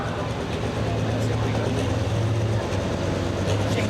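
A Turn Me Loose pulling tractor's engine roars steadily and loudly at an American Tractor Pullers Association tractor pull, a continuous low drone with crowd noise and an announcer's voice over it.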